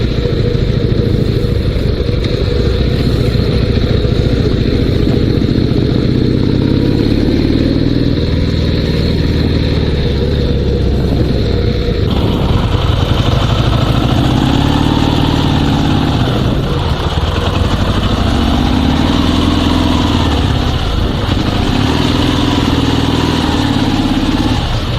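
Dnepr 16 2WD sidecar motorcycle engine heard while riding, a loud continuous mid-pitched drone with recurring rises and falls in revs as the throttle changes, dominating throughout.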